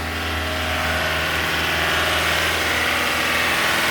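A car engine idles steadily at close range after a new water pump has been installed, a continuous even hum with faint mechanical whirring and no talk over it.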